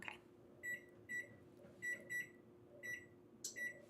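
An oven timer beeps in a kitchen while a tart crust blind bakes: a series of short, high electronic beeps in pairs and singles, fairly quiet over a low steady hum.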